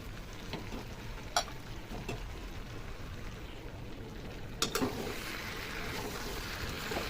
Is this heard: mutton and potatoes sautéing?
yes